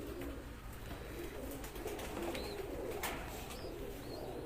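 Teddy pigeons coo softly and repeatedly, kept together in a loft setting. The coos are faint and somewhat distant, and low talk can be heard underneath.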